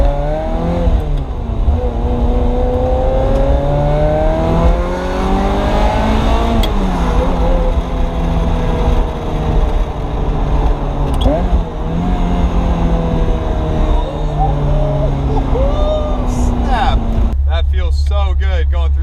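A Ferrari F355 engine revving hard through the gears from inside the cabin, loud rising and falling engine pitch with brief dips at each shift, steady and close throughout, ending in a sharp rev change.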